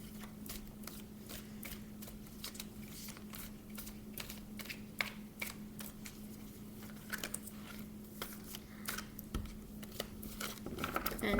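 Tarot cards being shuffled, making soft, quick papery riffles and taps that repeat irregularly at close range over a low steady hum.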